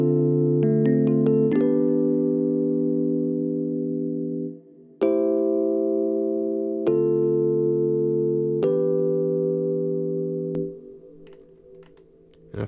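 Smooth R&B beat passed through a vintage cabinet effect, with sustained warm harmonic chords changing every couple of seconds, short percussive clicks near the start, and a fade to near silence at the end; no talking.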